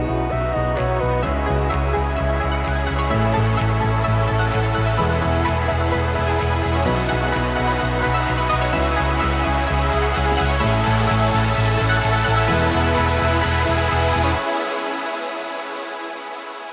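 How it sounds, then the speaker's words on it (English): Progressive house break built in Cubase: a pulsing bassline under a bright lead melody and layered synths, full and loud, then cutting off abruptly near the end with a short decaying tail. "We have here entering the main lead melody, already giving a little teaser for the hands up moment and the drop."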